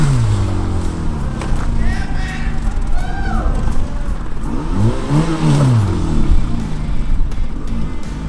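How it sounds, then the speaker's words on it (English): A Bobcat skid steer loader's engine runs and revs close by at an outdoor car-wrecking scene, a loud continuous mechanical drone with rising and falling pitch, mixed with shouting and talk. "Oh, get the bobcat and let's smash it."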